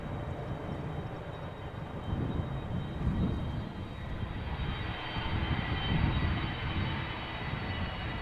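A jet airliner departs at Amsterdam Schiphol Airport, with a broad, steady engine roar that swells slightly over several seconds, loud and continuous without any voice.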